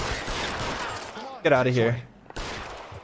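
Gunfire in the L.A. Noire video game sounds as a quick fusillade of shots mixed under a man's urgent spoken line, with a short burst of noise later on.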